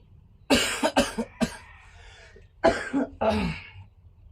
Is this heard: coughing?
yes